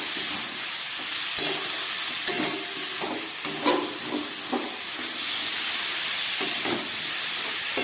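Ground coriander and cumin sizzle in a pan just after a splash of water, giving a loud, steady hiss of steam and frying with occasional stirring scrapes and no talk.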